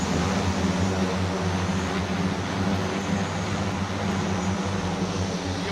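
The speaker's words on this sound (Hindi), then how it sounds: "सारे विंग्स घूमने लगे और अब ये जो है वो टेक ऑफ करने वाला है।" Passenger-carrying Made in India drone spinning up its rotors for takeoff, a loud, steady droning whir with low throbbing tones, constant and close throughout.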